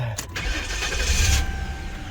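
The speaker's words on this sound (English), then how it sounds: "She starts up a little weird. It's kind of like if starter's going out on it." An old police car engine cranks over with a failing starter, giving a short, uneven stutter before the motor catches and runs at a loud, rough idle close by.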